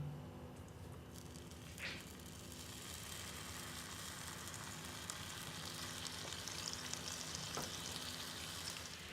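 Sugar caramelizing in a pan over medium heat sizzles and fries steadily after hot water is poured in, a continuous low bubbling hiss throughout with no talking.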